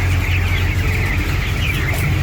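A broiler poultry house holding about 8000 birds gives off a dense, steady chorus of chicken clucks and chirps, layered over constant ventilation fan hum.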